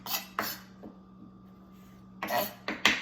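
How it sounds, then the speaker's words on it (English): A knife chops ginger on a board while stuffed bell peppers are being prepared, giving a few sharp clicking strikes at the start, a quiet gap, then a cluster of quick chops near the end. "And now we'll chop it."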